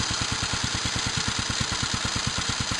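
A restored J.A.P. model 5 rally engine runs steadily, its low, even, rapid firing pulses thumping close and loud with no talk over it.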